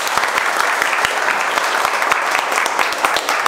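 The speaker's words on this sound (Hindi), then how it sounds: "28 मार्च की बैच एक बार जोरदार तालियों से स्वागत है।" Energetic audience applause welcoming a new training batch at a mobile repair training institute, many hands clapping in a close, lively burst with distinct sharp claps standing out, loud and sustained throughout.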